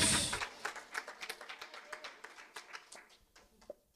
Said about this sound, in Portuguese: aplauda dando glória a Deus